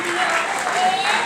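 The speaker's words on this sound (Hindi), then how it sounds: "खुदा के जलाल के लिए तालियां बजाएं" Church congregation clapping in praise during a worship service in Pakistan, a dense steady wash of many hands with voices mixed underneath.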